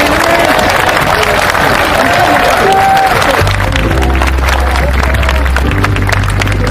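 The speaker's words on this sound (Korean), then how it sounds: "여러분 힘차게 박수 쳐주세요." A crowd at a June 10 uprising commemoration event applauds loudly and steadily, with dense continuous clapping and some crowd noise throughout.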